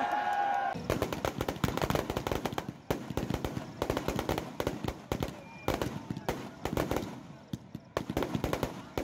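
Celebratory gunfire at the Betma Dussehra festival: rapid, loud volleys of cracking shots in repeated bursts with brief gaps, echoing outdoors over faint crowd noise.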